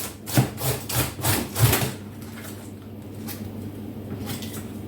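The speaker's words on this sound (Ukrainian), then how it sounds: "ось так починаємо ми шинкувати нашу капусту" Cabbage being shredded for pickling on a hand shredder, with a quick run of rhythmic rasping strokes for about two seconds, then quieter scraping and faint movement.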